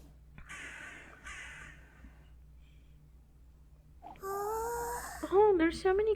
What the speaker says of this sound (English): Oh, the crows are here.